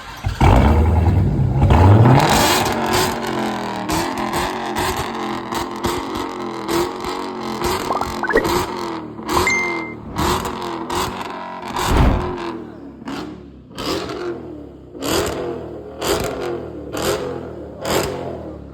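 A Dodge Hellcat fitted with a Legmaker intake revs hard at first, then settles into a series of sharp, loud throttle blips and surges with pauses in between, close by and alone.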